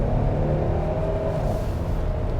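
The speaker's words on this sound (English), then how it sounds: "And you can't deny that V6, it sounds really good" A 2023 Hyundai Palisade SEL's V6 engine pulls under light acceleration from inside the cabin, a steady low rumble with a mild rising note.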